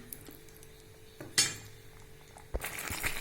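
Javvarisi (sago) upma with rava is stirred in a pan, giving a few sharp metallic scrapes and clinks of a spoon against the pan amid quiet background hiss.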